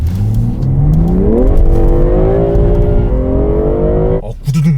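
A BMW 330e plug-in hybrid accelerates hard, its engine note climbing steadily in pitch for about four seconds before easing off, loud and close inside the cabin with no talking.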